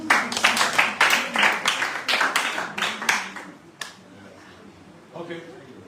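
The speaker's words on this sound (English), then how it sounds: "big round of applause for her" An audience claps at a public talk, with a burst of loud, dense applause fading over several seconds into a few scattered claps and then a faint final patter.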